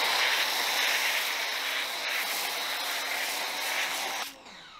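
A 2.0 gallons-per-minute pressure washer spraying foam through a Raincovo foam cannon, a steady loud broadband hiss running close and continuously, then stopping abruptly near the end.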